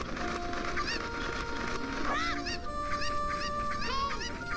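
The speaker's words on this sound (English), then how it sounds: "Shut up, you stupid chicken." Cuccos cluck and squawk in The Legend of Zelda: Ocarina of Time, several rising chirpy calls over game music and background hum, moderately faint.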